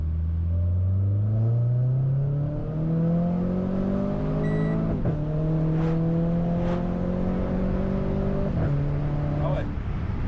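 Renault Clio IV RS 250 bhp engine accelerating hard in race mode, rising in pitch through repeated upshifts with brief dips at each gear change, loud and close from inside the car.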